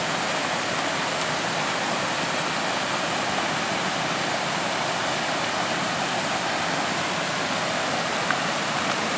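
Rushing water of Seneca Creek in West Virginia, a dense, continuous roar of flowing water heard close and loud with no break or voices.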